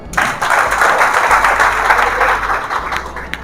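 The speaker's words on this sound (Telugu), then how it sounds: "ఒకసారి క్లాప్స్." Audience clapping fills the room at a classroom-style self-employment talk, a steady round of applause from many hands that runs loud throughout with no speech over it.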